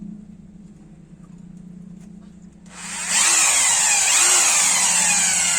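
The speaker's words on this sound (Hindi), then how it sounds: "देखिए अभी ये सादा चल रहा है, हमर नहीं चालू किया है," A 20mm rotary hammer drill runs in plain drill mode with the hammer off: after a low background hum, the motor kicks in with a loud, steady, high whine that holds to the end.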